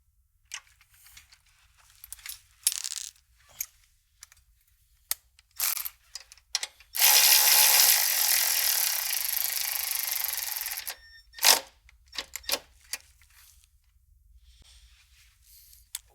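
A ratchet tightens the bolts on a Jeep Wrangler JL shock reservoir mounting bracket, giving close bursts of clicking, then a sustained whir of a powered tool for several seconds, followed by scattered short clicks and taps.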